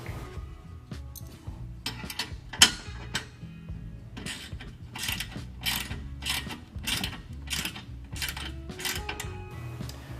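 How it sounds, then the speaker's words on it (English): M8 button head bolts and nylon nuts being tightened on a Jeep Gladiator frame assembly, a ratchet wrench clicking in quick repeated bursts close up with short pauses between strokes, no talking. "you can now fully tighten the M8 button head bolts and nylon nuts on both sides"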